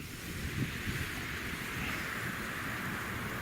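Steady wind blowing outdoors around a home with solar panels and a wind turbine, a continuous broadband rush with gusty buffeting on the microphone, loud and unbroken throughout.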